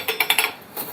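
Metal household dishes and utensils clink and clatter in a quick series of sharp, close knocks as a stack is lifted and carried, then the clatter briefly settles before another clink.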